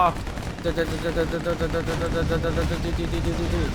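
Rapid gunfire from the Lego Batman 2: DC Super Heroes video game crackles steadily under busy game music and effects, with someone talking over it throughout.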